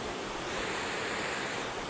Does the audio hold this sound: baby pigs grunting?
no